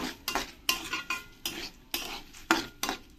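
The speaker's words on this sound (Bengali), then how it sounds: "এরকম খালি কড়াইতেই ভালো করে এরকম করে নাড়িয়ে চাড়িয়ে আমি" Masoor dal is dry-roasted in an empty wok, a spoon scraping and clinking against the metal in quick repeated strokes with a soft rattle of grains between them, close and without speech.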